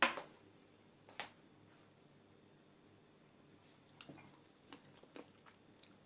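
Soft, wet chewing of a spoonful of sugar-free Turkish pumpkin dessert (kabak tatlısı), close and quiet, with a few faint clicks and squishy bites scattered over several seconds of near silence.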